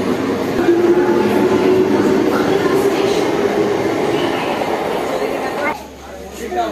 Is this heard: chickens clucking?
no